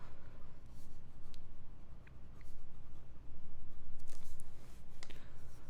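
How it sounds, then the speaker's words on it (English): Cleo Skribent Optima fountain pen scratching across paper in quick, fast strokes, a soft continuous scraping with brief ticks, close and steady, no voices. "Try some fast writing."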